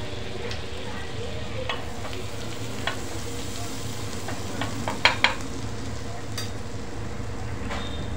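Butter with a pinch of red chili powder and coriander leaves sizzles steadily in a pan for masala pav, a few sharp clicks of stirring against the metal rising above the continuous frying hiss.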